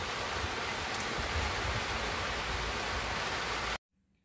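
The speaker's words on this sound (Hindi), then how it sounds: "देखिए कितना ज़ोर से बारिश हो रहा है" Heavy rain pours down in a steady, loud, dense hiss during a storm in an evening with the power out, then cuts off abruptly near the end.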